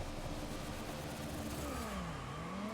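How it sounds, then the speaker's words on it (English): A loud car engine hums steadily with a slowly rising then falling pitch, partly buried in broadband roar, with no talk. "Car is loud."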